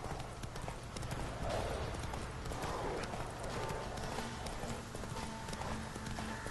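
A horse in the Witcher 3 video game gallops along with steady rhythmic hoof clops at moderate loudness and a faint whinny, set against game ambience.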